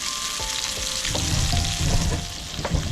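Trout fillet sizzles steadily in a hot pan as the skin crisps, a close, continuous frying hiss with occasional pops and no voices.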